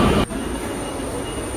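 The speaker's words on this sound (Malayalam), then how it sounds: "അപ്പോൾ അങ്ങനെ നമ്മുടെ ട്രെയിൻ വന്നു." A Kochi metro train pulls in at Kaloor station, a loud broadband rush of rail noise that drops sharply after a quarter second into a steadier, quieter rumble with faint squealing overtones.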